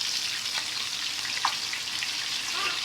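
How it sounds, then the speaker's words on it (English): Ripe plantain slices fry in a frying pan with a steady, soft sizzle and faint crackle and a few small pops, heard alone with no talk. "let's put our plantain into the frying pan"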